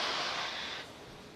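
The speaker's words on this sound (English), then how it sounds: "you can start to hear some of the hissing and popping, and that is pressure venting from the rocket and the plumbing in the transporter erector" Pressure venting from a Falcon 9 rocket and the plumbing of its transporter erector on the launch pad: a loud, steady broadband hiss that drops to a softer hiss about two-thirds of the way through.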